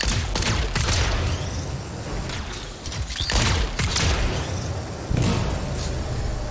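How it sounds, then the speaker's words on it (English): In the video game Anthem, a contained explosion sets off dense, loud bursts of booming, crackling blasts and thuds that keep going with few gaps. "It'll be a contained explosion."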